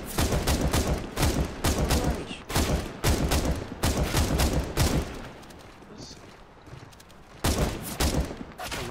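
Rapid automatic gunfire in CS:GO, dense bursts of loud close shots with short pauses, a quieter gap midway, and a player's voice talking over the shooting.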